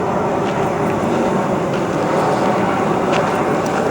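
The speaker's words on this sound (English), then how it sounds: "Sound of an aircraft." An aircraft passes over the Leeds and Liverpool Canal at the Liverpool end, a steady, broad roar that holds at an even loudness throughout with no talk.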